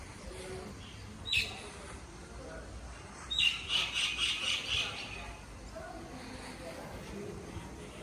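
Birds calling outdoors on a road trip between Lahore and Sahiwal: a short chirp, then a quick run of repeated bright notes, heard faintly over a steady low background rumble.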